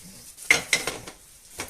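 Pork and beef mince goes into a hot pan, a few sharp clattering knocks and scrapes followed by a soft brief sizzle, fairly quiet and close.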